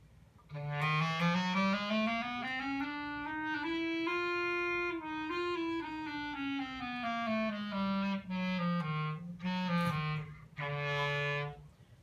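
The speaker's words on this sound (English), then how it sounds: "That's what the clarinet sounds like" A clarinet plays a smooth, rising and falling scale of sustained notes, clear and close with no accompaniment or talking.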